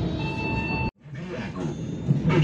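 Passenger train on an Indonesian line pulling into Negeri Agung station, a steady rolling rumble with faint tonal hums, a sudden brief dropout, then wheel and carriage noise returning close by.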